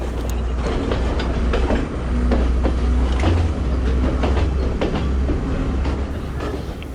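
A train runs steadily on rails along a scenic mountain line past Nanu Oya, with a loud continuous rumble and rhythmic clickety-clack of wheels throughout, no voices.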